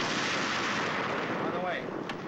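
An artillery gun firing in a 1945 war film, a single heavy boom with a long rumbling decay that fills the short moment.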